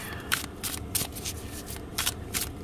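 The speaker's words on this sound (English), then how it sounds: "So I'm just going to do a shuffle." Tarot cards are shuffled up close in a quick series of soft riffling bursts, about eight in a row, fairly quiet.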